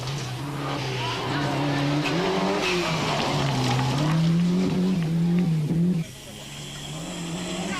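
A Ford Sierra Cosworth rally car driving hard on a stage of the 1992 Cyprus Rally, with a loud, close engine wailing through rising and falling gear changes, a brief drop in sound, then renewed revving, and a commentator talking over it.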